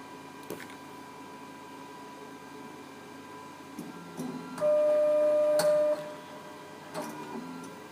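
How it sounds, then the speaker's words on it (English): A 3D printer starts its print: faint ticks and clicks, then a loud whining stepper-motor tone for about a second and a half, followed by more small mechanical taps in a quiet room. "When the head reaches the temperature it's needed, the printer will start automatically."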